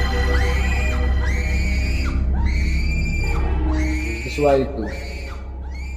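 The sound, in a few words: students screaming and crying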